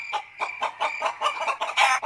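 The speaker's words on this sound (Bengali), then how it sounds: "থেকে একসঙ্গে অনেকগুলো মুরগি ভয়ে কোকড় কোকড়ে উঠল।" Many frightened chickens clucking together in quick, loud, overlapping bursts, a dense agitated cackle close by with no speech.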